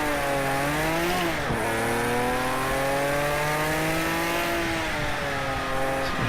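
A 1973 Porsche Carrera RSR race car accelerating on track, its engine revving loudly and close, pitch climbing through gears with a brief dip at a shift, then a sustained high howl throughout.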